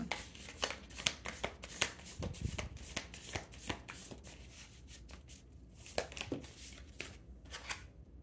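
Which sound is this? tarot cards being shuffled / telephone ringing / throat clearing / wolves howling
tarot cards being shuffled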